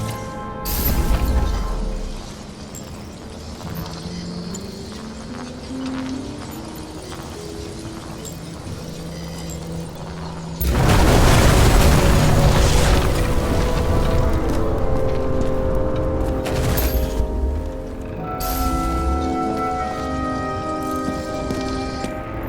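A deep booming explosion with crashing debris bursts out midway through a long stretch of tonal ambient music in the noir video game Nobody Wants to Die, and the rumble and clatter linger for several seconds before the music settles back.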